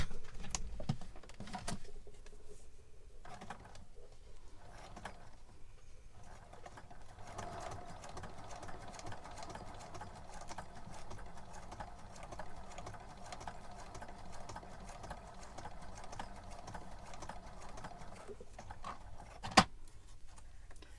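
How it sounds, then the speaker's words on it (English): A sewing machine runs a straight stitch around a fabric circle, starting up after a few seconds and whirring steadily and close for a long, even stretch before stopping with a sharp click near the end. "let's go ahead and sew around our circle. I'm using a straight stitch."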